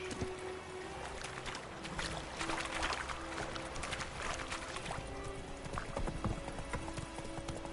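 A horse's hooves clip-clop on the ground in The Witcher 3, a steady run of close, crisp hoofbeats over faint game ambience.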